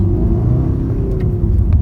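A 2016 Honda Civic Si diesel engine hums low and steady, its pitch beginning to climb as it pulls away from a standstill onto a motorway, loud and close.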